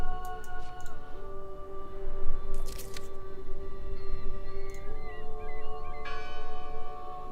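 A church bell in the horror game Draugen tolls steadily amid quiet ambient sound, with faint creaks and brief clicks scattered around it.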